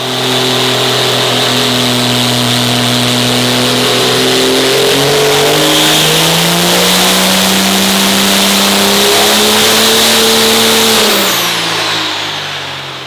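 A nitrous-tuned Firepunk car engine on a dyno holds a loud, sustained drone that climbs slowly in pitch over several seconds, then drops off and fades as the run ends.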